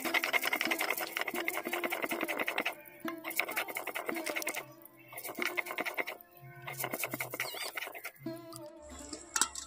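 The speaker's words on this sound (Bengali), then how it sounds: "এখন আমি খুব ভালো করে এটাকে বেটে নেব।" Mustard seeds, turmeric and green chili are ground into a spice paste with rhythmic rough scraping and grinding bursts, separated by short pauses, close and moderately quiet.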